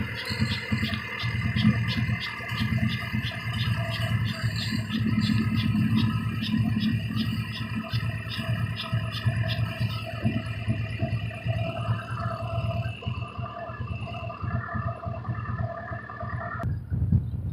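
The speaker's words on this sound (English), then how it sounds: "As you can see, the idle is all high again." A Honda Civic with an H22 engine idles high from a vacuum leak, giving a continuous, close droning hum with a thin harmonic whine above it. No voices are present.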